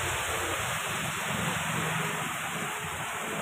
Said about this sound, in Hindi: बरसात और भी तेज होती जा रही है